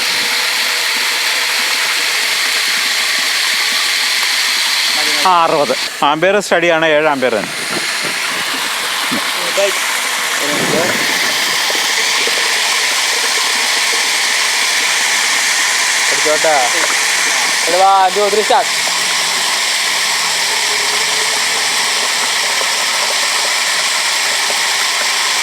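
Water from a Classic vertical openwell pump pours steadily into a bucket, a loud continuous rushing gush, while someone speaks over it now and then.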